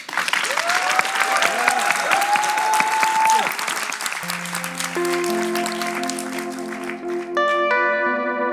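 An audience applauds a singer with loud, dense clapping that fills the first few seconds and then thins out, while sustained bell-like musical tones rise and linger beneath it.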